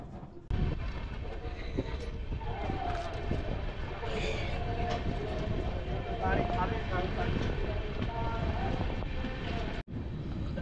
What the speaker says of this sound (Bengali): ট্রেনের হুইসেল দিয়ে দিয়েছে, এবার ছাড়বে।